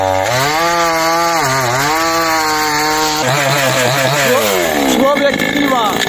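A chainsaw engine runs loudly and continuously, its pitch dipping and rising as it revs and bogs under load, with voices mixed in.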